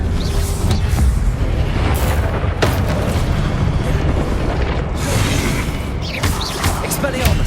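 Confringo blasting spells explode one after another in the Hogwarts Legacy video game, heavy booming blasts rolling over a dense, continuous rumble of battle noise with a voice calling out spells.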